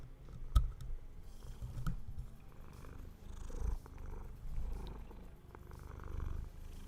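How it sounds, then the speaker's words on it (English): Soft, steady purring rumbles close by, with occasional small clicks and rustles of movement, no voices. "I'm letting you hear her cuddles and her purr."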